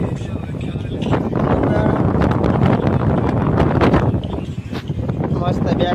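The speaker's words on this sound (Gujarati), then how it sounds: "અહીં ઠો ઠંડો પવન આવે" A cool wind gusts past, striking the microphone with a loud, low rumble that surges and dips, and a voice may sound faintly beneath it.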